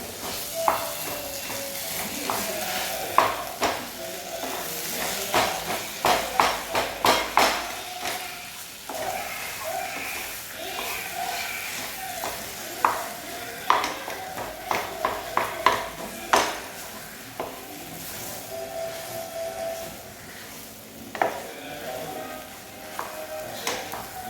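Stir-fried tapioca (kappa) being stirred and mixed in a pan, with a steady frying sizzle under repeated scraping and clattering of a spoon against the metal, in bursts of quick strokes separated by short pauses.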